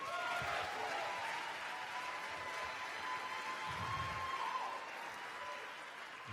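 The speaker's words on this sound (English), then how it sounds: "A round of applause for Saul, please." An audience at a live Ignite speaking event applauds the next presenter, a broad, sustained round of clapping that stays steady and then thins slightly near the end, with some faint voices and a few low thumps in the room.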